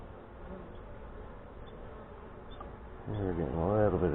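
Honey bees buzz around an open hive during a fall inspection in northwest Wisconsin, a soft, steady hum that swells into a closer, louder, wavering drone near the end.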